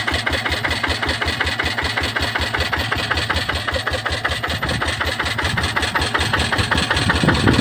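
Car engine idling through a homemade welded exhaust pipe, a loud, close, rapid pulsing throb that holds steady and swells slightly toward the end, with no talk over it.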